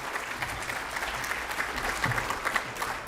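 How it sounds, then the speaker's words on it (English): A lecture audience gives Professor Ramirez a sustained round of applause after his talk on affirmative action, a steady, moderately distant clatter of many hands with no speech over it. "A round of applause."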